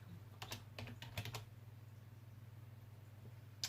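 Keys tapped on a computer keyboard while entering a search word, a quick cluster of clicks early on followed by a steady low hum and one last faint tap near the end.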